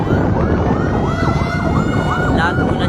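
A fire truck siren wails at a fire in Tondo, Manila, sweeping up and down steadily over loud street and engine rumble, with faint voices in the background.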